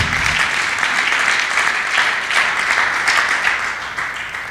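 A church congregation applauds in praise with a loud, dense, sustained wash of clapping that holds steady and eases slightly at the end.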